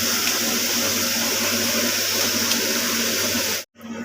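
Water pours steadily into a cooking pot for chicken biryani rice, a constant broadband splashing rush lasting about three and a half seconds before cutting off abruptly, then resuming briefly.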